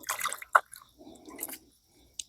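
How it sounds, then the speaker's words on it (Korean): Water drips and splashes in small bursts as moss gathered from the mountains is wetted by hand, with a few soft squishy, wet clicks spaced irregularly, close and fairly quiet. "물소리도 나고"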